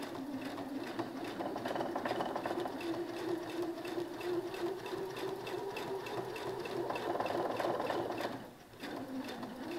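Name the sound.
sewing machine stitching a dress seam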